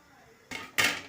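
A metal lid on a pot of boiling rice gives two quick, close clanks in a quiet kitchen.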